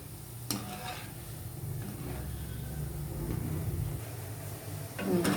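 Gulab jamun balls fry gently in oil over a low flame, giving a steady, even hiss with a couple of faint clicks from the pan.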